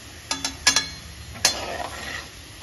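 Cumin and halved coriander seeds fry in hot oil with a soft steady sizzle, broken by a few sharp ticks and pops from the pan, close by.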